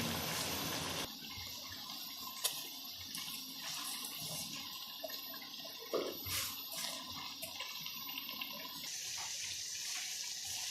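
Kashmir brand cooking oil pours steadily into a pan for pumpkin halwa, a continuous close gushing stream with a few small splashes and no talking.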